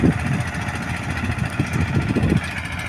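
An eleven-year-old tractor's diesel engine idles close by on a cotton farm, a low steady chugging rumble with a slight rhythmic knock throughout the short stretch.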